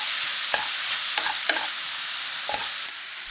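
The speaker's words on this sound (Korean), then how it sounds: "잡채용 썰은 돼지고기 120g으로 단백질에 채워주고 맛있는 갈색이 돌 때까지 달달 볶아주세요" Julienned pork is stir-fried in a hot pan with a steady loud sizzle, while a few sharp scrapes and clinks of a spatula against the pan cut through at irregular intervals.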